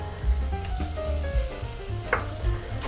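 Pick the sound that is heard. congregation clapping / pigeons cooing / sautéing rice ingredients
sautéing rice ingredients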